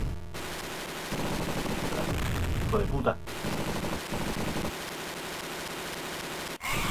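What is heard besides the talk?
gunfire in Robocop vs Terminator Sega Mega Drive video game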